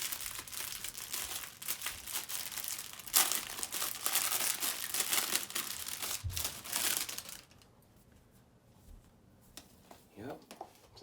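Crinkly plastic-like handling of a fabric carrying bag packed with a Gaomon M10K 2018 Edition graphics tablet, continuous rustling and crumpling for about seven seconds, then quieter scattered handling noises.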